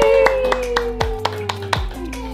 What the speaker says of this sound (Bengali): না এবার করো আবার হাততালি দিয়ে দাও আবার